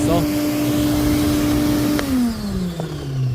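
Ridgid shop vacuum found on the curb, running with strong suction as a loud steady whine whose pitch drops partway through, with a person talking over it.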